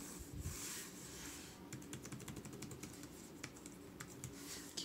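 Fingers type on the keyboard of a Lenovo ThinkPad X1 Extreme Gen 3 laptop, making quiet, close clicks that come in quick bursts with short pauses. No voices can be heard.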